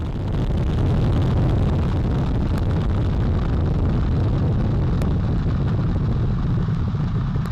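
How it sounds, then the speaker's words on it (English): Artemis 1 rocket lifting off, its four RS-25 core-stage engines and two solid rocket boosters producing a loud, continuous broadband roar with deep rumbling crackle that stays steady and overwhelming for several seconds, no voices. "All 4 RS-25 engines on the core stage and 2 solid rocket boosters now propelling the vehicle"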